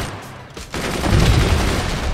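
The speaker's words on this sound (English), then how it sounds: "Left click the machine gun to select it." A machine gun fires in the strategy video game Forts, a loud rapid burst that starts abruptly after a quiet moment and keeps rattling to the end.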